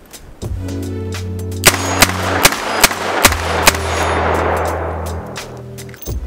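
Rapid fire from a Chiappa Rhino 60DS revolver: about seven loud, sharp cracks in quick succession, each leaving a metallic ringing tail over a steady background hum.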